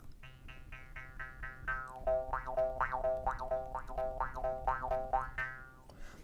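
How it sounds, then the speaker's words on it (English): Repeated close jaw harp twangs in a steady rhythm, the resonant buzz sweeping up and down in pitch like a wah with each pluck. "This is called a jaw harp."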